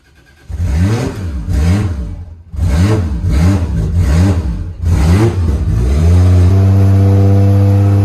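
A Nissan 180SX S13 with a 1JZ engine cranks and catches, then revs in several loud surges before settling into a steady, throaty idle close by.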